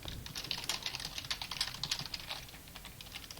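Steady, fairly close typing on a computer keyboard, with quick irregular keystrokes in a continuous run and no voices.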